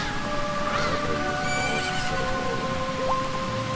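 A horse in The Legend of Zelda: Majora's Mask gives a clear whinny, with rain-like game ambience and soft hoof clops running underneath throughout.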